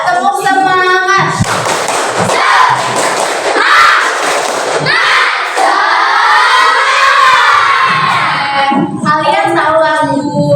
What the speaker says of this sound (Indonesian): Kita cek semangat dulu ya. Tepuk semangat.